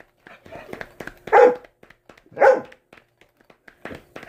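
A female service dog barks twice, loud and close, with sharp separate barks about a second apart; softer small sounds and faint breathy voice-like noise fill the gaps.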